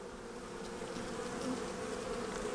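Honeybees buzz around an open hive full of newly emerged bees and capped brood, a steady close drone with no one talking.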